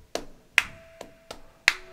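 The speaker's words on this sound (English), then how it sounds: "the palmas, which is the clapping, the rhythm" Five sharp flamenco palmas claps ring out alone at an uneven rhythm, crisp and close with short decays, the fifth the loudest.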